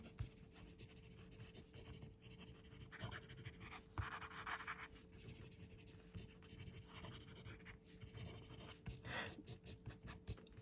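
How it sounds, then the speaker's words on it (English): Gravitas acrylic vac fountain pen writing quickly on paper, a faint close scratchy nib sound in short strokes and bursts over a quiet background hum. "Quick writing."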